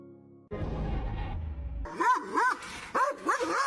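A dog barks in a quick series of sharp, close barks that rise through the latter half, following a stretch of louder mixed noise.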